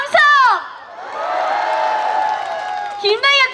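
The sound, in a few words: concert crowd cheering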